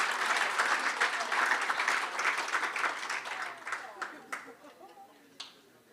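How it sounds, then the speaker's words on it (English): Crowd at an awards evening applauds medal winners with thick, sustained clapping that gradually thins into a few scattered last claps before fading out. "Another round of applause, please."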